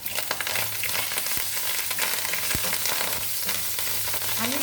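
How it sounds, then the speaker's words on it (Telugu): Curry leaves hitting hot oil for a tempering, crackling and sizzling loudly and steadily throughout with a few sharp pops, close up and without talk. "ఇప్పుడు ఇందులో కరివేపాకు వేస్తున్నాను"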